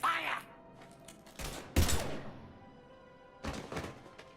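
Gunfire in the Mass Effect video game comes in a few sharp, heavy thumping bursts, one loud cluster near the start and another toward the end, with faint game voice and ambience between the shots.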